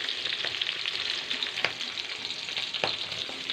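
Onions and chillies frying in a pan for Maggi noodles, a close, dense sizzle running continuously, punctuated by a few sharp spoon scrapes.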